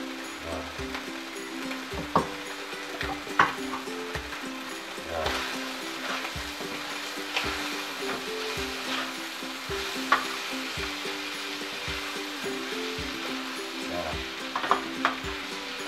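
Continuous crackling sizzle of chicken wings frying in a pan, with occasional scrapes and clanks of stirring, no talking.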